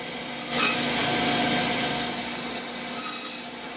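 Power saw blade cutting a kerf into wooden guitar lining held against a fence by a feather board, a steady rasping whine that swells at the start and then holds, close with no talk.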